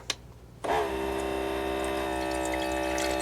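Water pumped from a primed cargo trailer line into a water bottle: after a brief quiet start, a sudden steady rushing, humming flow begins and continues evenly to the end, close and fairly loud.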